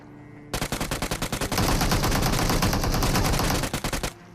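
Gunfire in the mobile game BGMI: a rapid burst of single shots turns into sustained automatic fire, then ends in a few more separate shots, loud and close.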